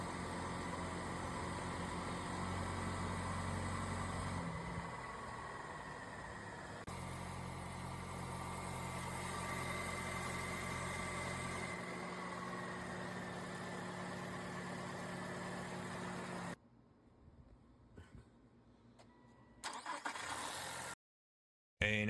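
A 2024 Toyota Tacoma engine idling at cold start, with fuel rail noise: a steady, loud mechanical drone with a ticking texture that runs for about sixteen seconds, then cuts to near silence with brief bursts.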